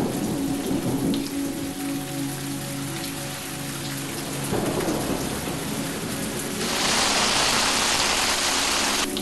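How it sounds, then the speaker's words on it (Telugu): Heavy rain pours down on the tents in a dense, constant hiss, heard close from inside, with rolling thunder rumbling underneath and the downpour swelling louder toward the end. "బయట వర్షం కుండపోతలా కురుస్తోంది"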